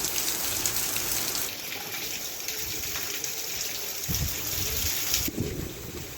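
Heavy downpour in a city centre in Şanlıurfa, a dense, continuous hiss of falling water and splashing runoff that stays loud and steady throughout with no voices.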